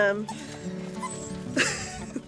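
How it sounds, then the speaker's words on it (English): Puppies whimper and yip in a series of high, wavering whines and short sharp cries, close by, with a person talking over them. "these puppies are cracking me up"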